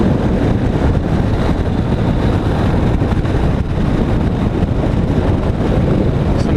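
A Harley-Davidson Road King Special cruising on the road, heavy buffeting wind roar covering a low engine rumble, loud and constant from the rider's position, with no talk.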